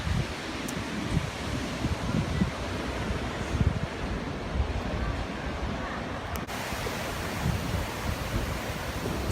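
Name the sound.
wind blowing at the beach by a pier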